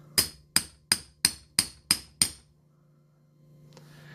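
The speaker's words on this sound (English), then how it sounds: "it really is just a few little nice taps with the hammer" A hammer taps a flat washer in a steel doming block, seven sharp, ringing metallic strikes at a steady even pace, close and clear. Silence follows, then faint handling noise.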